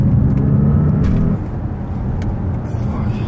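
An Audi S8 with a tuned 700 bhp V8 pulls hard in third gear, a loud, deep engine roar filling the cabin that eases slightly midway and carries on steadily to the end.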